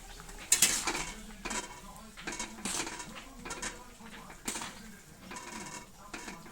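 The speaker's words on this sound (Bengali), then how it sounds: "ঢাকনা উঠিয়ে দেখব কতটুকু হয়েছে।" A lid lifted off a cooking pot of simmering potato and tomato curry, with a bright metallic clink followed by soft clatters and kitchen noises, faint and close, alongside quiet talk.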